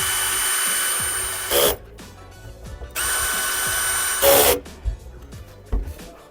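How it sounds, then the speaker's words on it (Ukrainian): A power drill drives two bolts to fasten a mounting plate inside a stationary vending machine, two loud whirring bursts broken by short pauses and light handling knocks, close and with no talk. "Для початку кріпимо пластину, на якій він буде триматись, на двох болтах."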